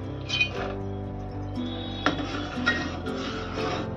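Cinnamon, cloves, cashews and almonds stirred in a pan, with a few light metallic clinks and scrapes of the utensil against the pan over a faint background hum.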